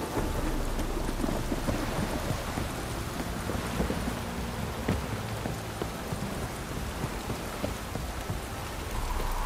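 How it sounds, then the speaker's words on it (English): Heavy downpour with thunder in the video game The Witcher 3: Wild Hunt on PS5, a dense steady hiss of rain with low rumbling thunder and scattered drop impacts, continuous and close. "This downpour's a bastard, it is."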